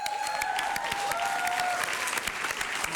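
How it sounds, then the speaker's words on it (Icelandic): Steady studio audience applause during an Icelandic Red Nose Day charity telethon broadcast, loud and continuous, with a faint tone gliding through it. "Geð okkur gott klapp."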